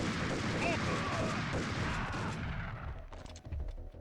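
Gunfire from a shotgun in the Max Payne video game, a dense, sustained barrage of loud shots that fills the first few seconds and then thins into scattered bursts near the end.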